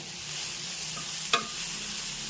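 Cabbage frying in a pan as it is stirred, a steady soft sizzle running throughout with a single sharp scrape of the utensil partway through.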